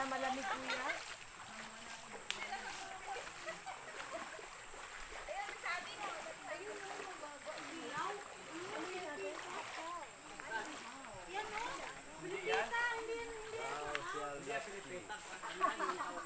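People splash and wade through a shallow river stream near Antipolo, a steady wash of water and sloshing running throughout, with voices talking over it.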